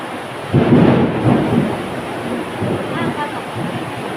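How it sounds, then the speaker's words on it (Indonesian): Thunder rumbles from a distance during a storm, a low rolling boom that swells after a moment of quiet and then fades in softer, uneven rumbles. "Ada petir ya."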